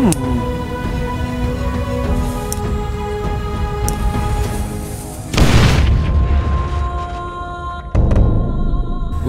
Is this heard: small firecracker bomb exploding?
yes